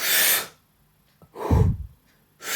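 Deep Wim Hof style breathing comes in close, loud rhythmic breaths: a strong rushing inhale, a pause, then a heavy exhale, and another inhale beginning at the end.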